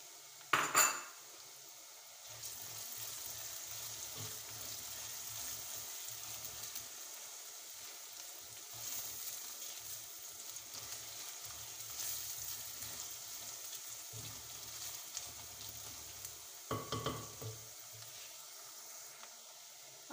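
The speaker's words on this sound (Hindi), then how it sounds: "अब मैं इसमें ऐड करूंगी वन टेबल स्पून लहसुन जो मैंने बारीक क्रश किया हुआ है वो लूंगी" Crushed garlic sizzles in a pan for Kashmiri-style tinda gosht. A steady, moderate frying hiss runs throughout, with metallic clinks of a utensil against the pan near the start and again late on.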